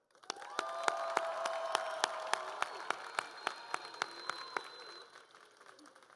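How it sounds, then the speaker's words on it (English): A graduation audience at the Florence High School Class of 2013 ceremony applauds the teachers, counselors and staff: broad, fairly even clapping with regular sharp claps standing out, fading away near the end. "please give a round of applause to Elk Grove's finest, the teachers, counselors,"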